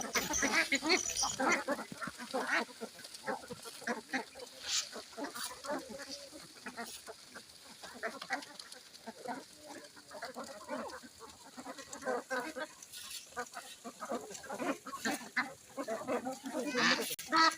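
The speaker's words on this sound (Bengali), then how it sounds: "এখানে আপনার কয়শো হাঁস আছে?" A flock of ducks on a duck farm quacks continuously, a busy chorus of overlapping honking calls at moderate distance that persists throughout without talk.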